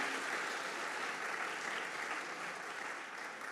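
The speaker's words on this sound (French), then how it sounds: "On peut les applaudir pour cette première partie." Audience applause at a panel debate on the low-carbon, solidarity economy, a dense, even wash of many hands clapping throughout, with no voices heard.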